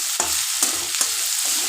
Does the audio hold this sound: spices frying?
yes